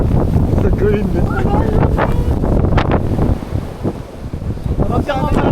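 Strong mountain wind on snowy Mt. Goz buffets the microphone in loud, roaring gusts with rumbling low-end pressure. A voice speaks briefly amid the blasts.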